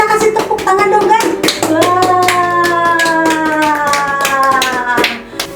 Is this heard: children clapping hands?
yes